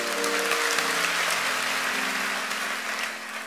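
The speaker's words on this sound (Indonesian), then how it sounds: "Yang percaya berikan tepuk tangan untuk Tuhan." A church congregation claps together in a sustained burst of applause, fairly loud and even, slowly tapering toward the end with no talking over it.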